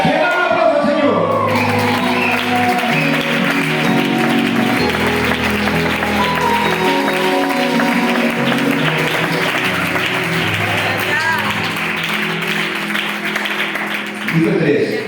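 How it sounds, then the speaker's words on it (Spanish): Church congregation applauding and cheering loudly for about fifteen seconds, a dense wash of clapping with whoops and shouts, and harmonic tones that may be music playing underneath throughout. "¡Que da un aplauso al Señor!"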